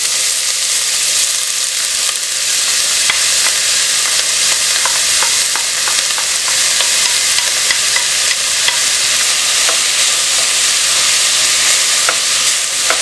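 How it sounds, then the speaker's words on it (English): Roughly chopped yellow onions sizzle steadily in hot oil in a pan for chili con carne, a continuous loud fry with occasional stirring clicks and no talking. "I'm going to throw in that I roughly chop 2 medium white, or I'm using yellow onions"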